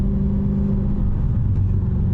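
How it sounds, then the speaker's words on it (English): A supercharged 2016 Dodge Challenger Hellcat cruises on a German highway, its engine a steady, low rumbling drone that holds evenly throughout with no breaks. "every time you come off the gas, you just chuck some fuel through the exhaust"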